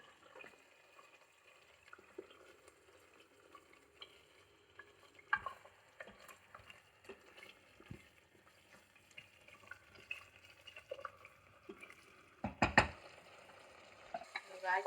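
Palak spinach is stirred and sautéed in a hot oil tempering, with soft, intermittent sizzling and scraping stirs punctuated by a few sharper clatters.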